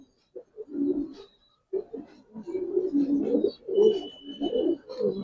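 Giribaz pigeons coo in soft repeated bursts at a pigeon sale, several low throaty calls close by with brief pauses between them and no talking.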